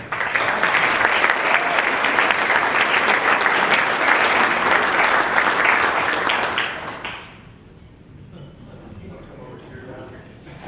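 Audience at a Rotary meeting applauding a welcomed speaker, sustained close clapping for about seven seconds that tapers off into quiet room murmur and faint talk.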